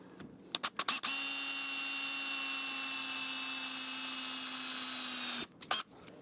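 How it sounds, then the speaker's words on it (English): A number 9 drill bit bores into metal while a cafe handlebar kit is fitted to a 2024 Triumph Speed Twin 1200, giving one steady whine for about four seconds between a few short clicks and knocks. "you're going to use a number 9 drill bit or 3/16 if you don't have a number 9"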